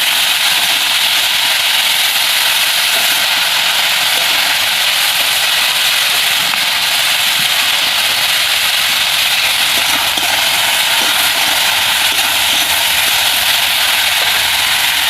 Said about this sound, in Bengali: তো হালকা করে ভেজে নেব সবজিটাকে।